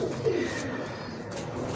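Crested pigeons coo softly, close by, in a brief low call under a faint ambient hiss.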